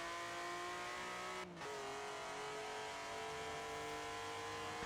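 Steady droning car engine from the racing game Forza Horizon 4, played with a Snopy V5H steering wheel, holding a constant rev with a brief dip and shift partway through, loud and alone without talk.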